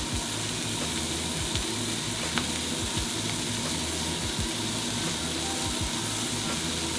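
Smash burger patties topped with sliced onion and pats of butter sizzle steadily on a hot flat-top grill, a loud, continuous, crackling hiss with no voices over it.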